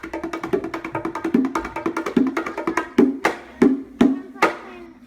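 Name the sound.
bongos played by hand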